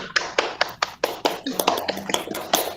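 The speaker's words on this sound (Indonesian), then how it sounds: "Beri tepuk tangan semua" Students in a classroom clap their hands nearby in fairly regular sharp strokes that grow more uneven as the clapping goes on, with faint voices mixed in.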